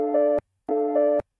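A one-shot sample pitched up a full octave in FL Studio plays as two short, bright, steady tonal bursts of equal length, separated by a brief silence, with no talking.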